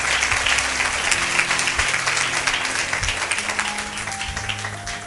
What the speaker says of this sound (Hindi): वचन के प्रेमी तालियां बजा रहे थे